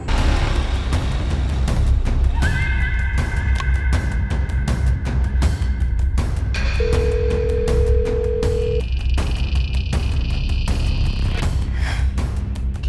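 A telephone ringing unanswered during a crime drama, with long steady electronic ring tones and tonal beeps repeating over a dense dramatic background score for more than ten seconds.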